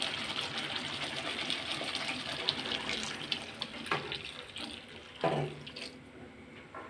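Hot water pours into a pot of oil-fried potatoes for a desi rohu fish besara curry, making a steady splashing gush with a few clinks and knocks toward the end.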